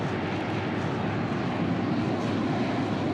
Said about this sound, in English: we're firing up what would be one Reaction Motors XLR-11 RM3 4-chamber rocket motor